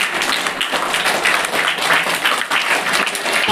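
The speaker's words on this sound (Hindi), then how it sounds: "ताली बजती रहनी चाहिए।" An audience at a farewell and felicitation ceremony claps continuously, a dense, loud patter of many hands with slight swells in intensity throughout.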